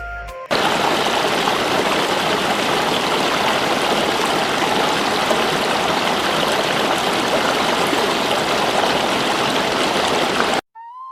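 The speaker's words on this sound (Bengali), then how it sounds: "আর এই যে চলে যাচ্ছে বাষ্পা নদী।" The Baspa, a Himalayan mountain river near Chitkul village in Himachal, rushes past in a steady, dense roar of flowing water, close and loud, continuous for the whole span before cutting off abruptly.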